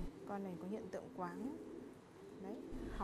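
Pigeons with an eye infection cooing in a loft, several soft rolling coos, close and fairly quiet, over a faint background murmur.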